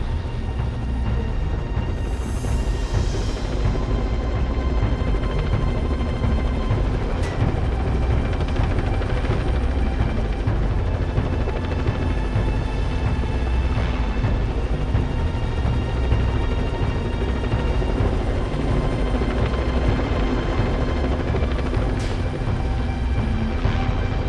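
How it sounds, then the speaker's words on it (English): A continuous, loud mechanical drone with a throbbing rotor-like hum, steady throughout without pauses, from a Venezuelan army helicopter flying nearby. "A helicopter on loan from the Venezuelan army was used to fly in the different pieces"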